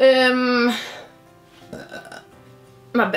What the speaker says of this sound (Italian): salute a me che ho ruttato.